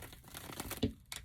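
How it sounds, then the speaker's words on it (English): A deck of tarot cards being shuffled by hand, giving a soft, continuous papery riffle and crinkle with a sharper flutter near the end, close up and fairly quiet, with no talking. "So, I'm going to shuffle them one more time."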